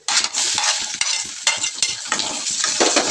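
Onions sizzle loudly in a hot pan while a utensil stirs them, scraping and clacking in repeated close strokes over a constant frying hiss, with no voices.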